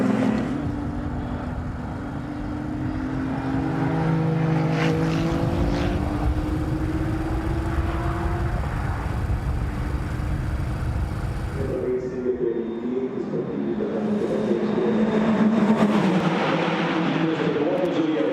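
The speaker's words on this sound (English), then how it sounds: "The 499p Modificata and 296 Challenge car then roaring along the start-finish straight here at Mugello." Ferrari 499P Modificata and 296 Challenge race cars roar past on the Mugello start-finish straight, high revving tones rising and falling, with a shift to a different engine note partway through.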